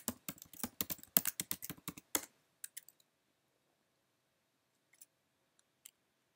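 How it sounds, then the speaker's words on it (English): Rapid clicks of a computer keyboard as a password is typed, a quick close burst of keystrokes for about two seconds, then a few isolated taps amid near silence. "Enter your password."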